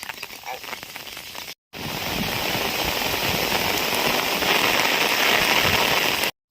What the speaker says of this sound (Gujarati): તમે જોઈ શકો સારો એવો વરસાદ પડે છે